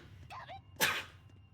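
A single sharp sneeze from a nearby person, preceded by a brief vocal sound, with quiet room noise around it.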